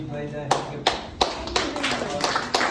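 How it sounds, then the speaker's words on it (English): Audience at an international peace seminar in Siliguri, West Bengal, gives scattered hand claps: a handful of sharp, distinct claps at irregular intervals over a low murmur of background voices. "A huge round of applause"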